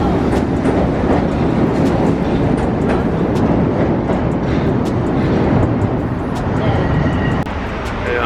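A train rumbles past close by in New York, loud and continuous, with rhythmic clattering of wheels over the rails and a voice speaking under the noise.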